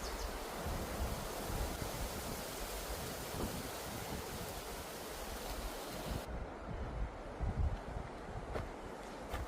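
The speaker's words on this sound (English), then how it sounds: "that's just giving you a little glimpse of how windy it is" Wind roars steadily across the microphone outdoors, a continuous blustery rush with occasional stronger gusts.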